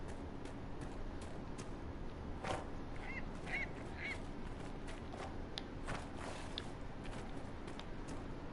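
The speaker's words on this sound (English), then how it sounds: "I do not, however, like those loud ass birds." Several birds in the video game Dragon Age: Inquisition honk and squawk in short, scattered calls over a steady noisy background, fairly faint and in irregular bursts.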